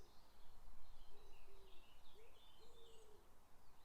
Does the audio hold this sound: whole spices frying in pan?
no